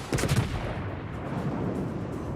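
Battleship main guns firing in World of Warships, a rumbling salvo of a few close booms at the start, then a sustained low roar fading into background ambience.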